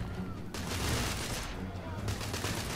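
Gunfire rattles through The Order: 1886 in dense, overlapping bursts, loud and close, with heavy blasts blending into a continuous roar of combat; a voice may be mixed faintly underneath.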